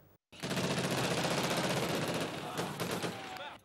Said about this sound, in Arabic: الرصاص الذي لا تزال تألفه حتى الحجارة في مدينة القصير كان هذه المرة رصاص ابتهاج